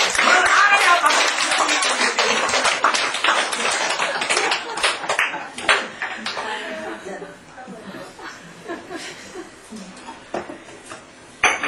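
Applause from an audience at a Buddhist sermon on the Nirvana Sutra, dense clapping at first that gradually thins and fades out, with faint chuckles mixed in.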